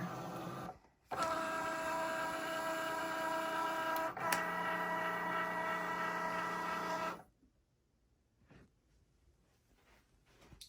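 A Cricut Joy cutting machine drawing in its mat, a steady mechanical whir with layered motor tones running for several seconds after a brief start, then stopping abruptly into near silence with a few faint clicks.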